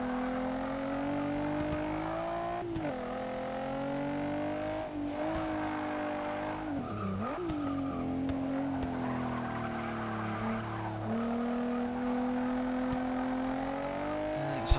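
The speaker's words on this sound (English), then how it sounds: "acceleration is vastly improved on the stock car" A 2015 Porsche Macan Turbo accelerating in Forza 6, its engine droning steadily and rising through several gear shifts, with tire squeal and skidding mixed in throughout.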